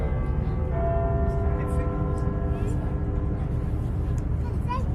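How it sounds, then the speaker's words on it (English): Big Ben's quarter bells chiming over London, heard from a river cruise boat: sustained bell tones ringing out above a heavy engine rumble and water noise. "So that bell you just heard, that's the quarter bell."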